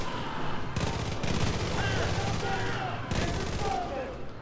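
Gunfire in the video game Far Cry 5 crackles in repeated bursts around a trailer park, rapid volleys alternating with brief lulls at close, loud range, and a voice is briefly audible amid the shooting.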